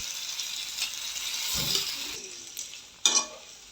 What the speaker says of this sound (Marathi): त्याच्यामध्ये बटाट्याच्या फोडी घालून घेते आहे